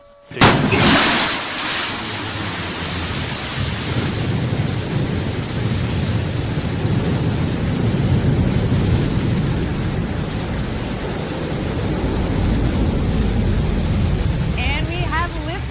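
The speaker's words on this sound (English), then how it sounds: "Beautiful liftoff from our launch site 1 in West Texas." Blue Origin's New Shepard rocket engine lifts off from launch site 1 in West Texas, a sudden onset swelling into a sustained, loud, broadband roar with deep rumble, while a commentator talks over it.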